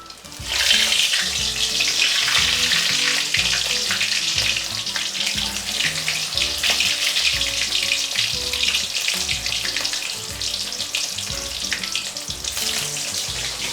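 Battered prawn fritters deep-fry in very hot oil, a loud, dense, continuous bubbling sizzle with constant crackling that holds steady close by, no one talking.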